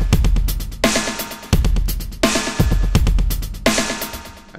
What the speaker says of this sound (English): a clean delay snapshot would sound like this